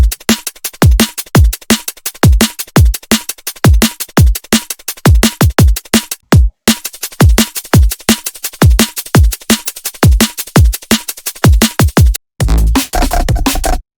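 A loud electronic drum pattern pounds with punchy kicks and crisp hi-hats and shakers ticking between them, briefly dropping out before resuming, ending in a shuffling stretch.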